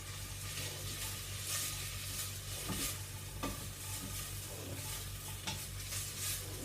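Carrots sautéing in a pan for a spicy Asian soup, a soft continuous sizzle with occasional stirring scrapes, fairly quiet and without talk.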